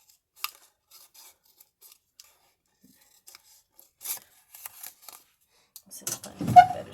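Dull scissors snipping paper while a small craft treat box is made, a scattering of quiet, sparse cuts and rustles building into busier, closer cutting and handling near the end.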